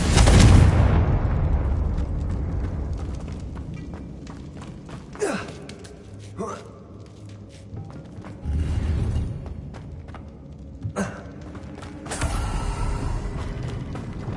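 A Confringo fire spell explodes in Hogwarts Legacy, a deep opening blast followed by a few sharper crackling bursts and rumbling impacts spread across the scene, with creaks and mechanical rattles between them and no talk.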